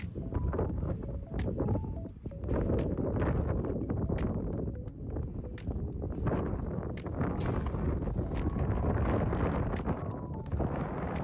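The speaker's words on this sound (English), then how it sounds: "Wow, wind is too strong." Strong wind buffets the microphone outdoors on a Stockholm street near tall buildings, a loud continuous low rumble with gusty swells throughout and no speech.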